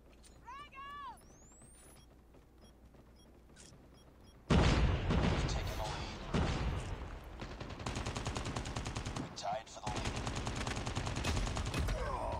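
Gunfire in the mobile shooter game COD Mobile: after a quiet stretch of light game sounds, a loud burst of rapid shots erupts and continues in dense volleys with brief pauses, close and forceful.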